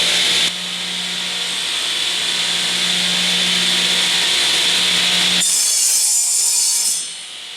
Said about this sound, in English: To true this up, I'm just going to use the radial arm saw.